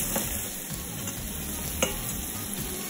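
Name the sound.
red prawns browning in a pan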